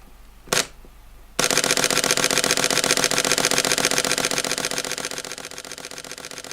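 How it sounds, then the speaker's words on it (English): A Sony camera fires a continuous burst at about 10 frames per second, a rapid, even, close mechanical clatter of shutter clicks that starts abruptly after a single click and runs steadily, fading slightly toward the end. "after about 20 seconds of holding down the shutter continuously"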